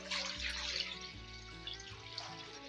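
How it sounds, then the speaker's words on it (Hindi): Water pours steadily into a deep cooking pan on a stovetop, a continuous close splashing fill with no talking. "डीप पैन, और इसके अंदर भी पानी शामिल करेंगे"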